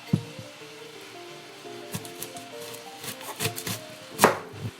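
A knife cuts through an onion on a board in a series of uneven, close chops with sharp taps. A louder crack comes near the end. No one speaks.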